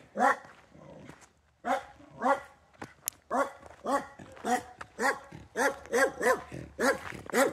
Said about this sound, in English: And the dog's loose.